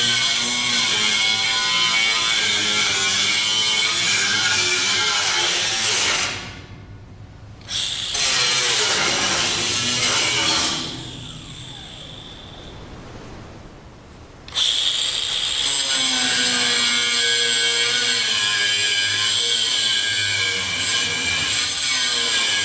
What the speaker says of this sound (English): Hopefully I can grind off the inside welds here without messing up the inner part of the fender too much.